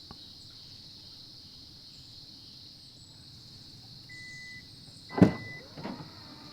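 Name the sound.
car tailgate opening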